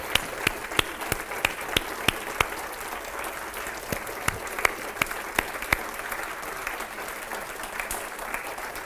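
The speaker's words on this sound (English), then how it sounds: "let's give them applause" Audience applause at the 2018 Edgar Cayce A.R.E. Ancient Mysteries Conference, honoring the organizing team: steady clapping from a sizeable crowd with sharp individual claps standing out, sustained evenly throughout.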